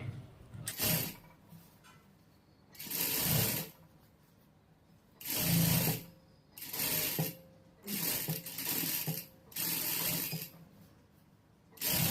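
A sewing machine stitches a blouse in six short bursts of mechanical whirring, each lasting about one to two seconds and separated by brief pauses, close and fairly quiet with no talking.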